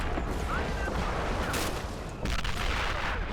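Incoming Nebelwerfer 41 rocket artillery barrage in Men of War: Assault Squad 2, a faint, dense rumble of distant blasts and crackling impacts over constant battlefield noise.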